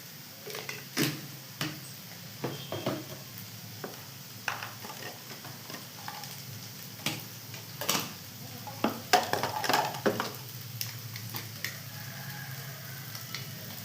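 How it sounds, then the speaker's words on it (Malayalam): Coriander powder frying in a little coconut oil while making prawn roast, giving a soft sizzle under irregular spoon-stirring scrapes and light clinks against the pan, steady and close with no talking. "ഇച്ചിരി വെളിച്ചെണ്ണ ഒഴിച്ചു കൊടുത്തിട്ട് ഇതിലോട്ട് അര മുക്കാൽ ടീസ്പൂൺ മല്ലിപ്പൊടി"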